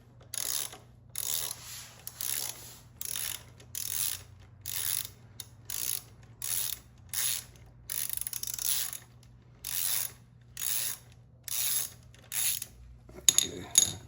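A hand ratchet clicks in a steady series of short bursts as it turns a bolt on the foot peg of a 2022 Yamaha YZ250X, about a dozen close, crisp strokes with brief pauses, ending in a small clatter.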